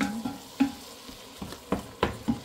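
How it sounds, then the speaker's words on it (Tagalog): Chopped tomato goes into a hot pan of meatball pasta sauce, giving a soft sizzle broken by several sharp stirring scrapes and clanks at irregular intervals, with no talk. "Lagyan na natin yung ating tomato, chopped tomato."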